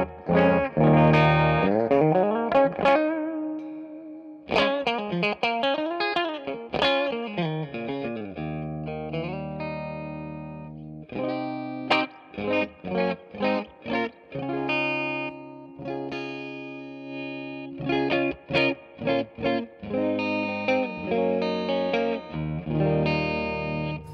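Schecter Omen Extreme-6 electric guitar on a clean tone through the neck pickup, played as ringing chords and arpeggiated phrases with short pauses and wobbling bends, solo and moderately loud.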